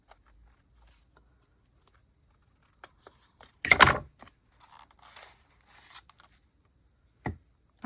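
Scissors give one short, sharp snip through paper at an art journal desk, surrounded by quiet rustles and small handling noises and then a final soft tap.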